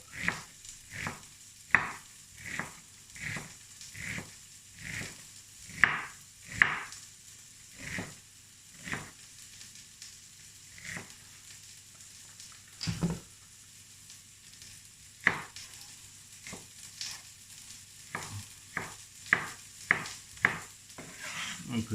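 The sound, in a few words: carrots and onions sizzling and being stirred in a pan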